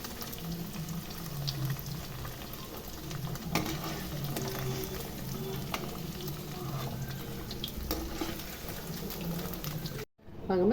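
Paneer frying in a pan for veg brinji, a soft steady sizzle with occasional stirring scrapes, faint and close, ending abruptly near the end.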